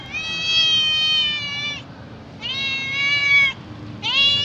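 An abandoned stray cat meows three times, long, clear, loud cries close by with short gaps between them.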